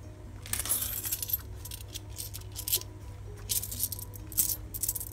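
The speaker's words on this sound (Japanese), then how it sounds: "まずね小銭入れ開けると" Coins clink and rattle inside an opened SHIPS mini wallet coin purse, a run of bright, close metallic jingles with short pauses between bursts.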